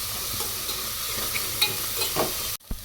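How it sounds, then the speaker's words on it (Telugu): Prawn shells tossed into a pan of frying onions and green chilies give a steady close sizzle with occasional stirring scrapes, then a brief clatter as it ends. "ఇప్పుడు ఉల్లిపాయ కొంచెం వేగిన తర్వాత రొయ్య పొట్టు వేసుకుందాం."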